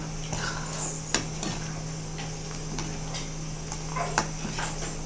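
Salt is stirred into Iyengar-style marundhu kuzhambu in a pot. A spoon makes soft scrapes and occasional clinks against the metal over a steady low background hum.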